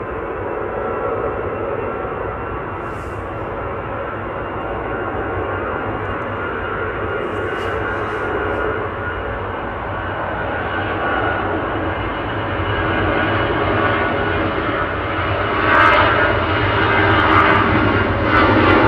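An airliner arriving at Manchester Airport from Funchal roars continuously for the whole stretch, loud and broad, swelling slightly toward the end as it draws nearer.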